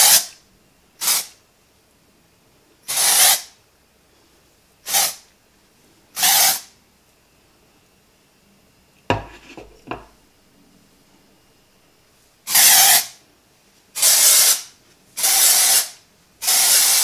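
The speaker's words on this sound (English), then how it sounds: "this is the side that I have sprayed with the dry shampoo" Dry shampoo aerosol sprayed onto a Jon Renau "Julianne" synthetic wig in Palm Springs Blonde, loud hissing bursts repeated about ten times, some short and some longer, with a few clicks and rustles between them and no talk.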